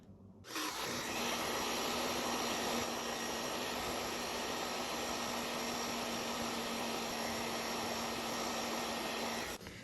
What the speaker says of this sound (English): So I use a hairdryer.